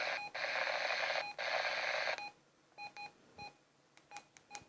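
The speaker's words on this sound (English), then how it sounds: "That's the same sort of beep tone as this." A handheld radio gives electronic beep tones: two long steady tones, then several short beeps ending in a quick series of high chirps, clear against quiet.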